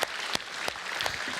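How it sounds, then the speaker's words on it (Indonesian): A stand-up comedy show audience in Indonesia claps for a comedian in a short, steady burst, with a few sharp louder claps standing out. "Sekali lagi tepuk tangan buat Sri."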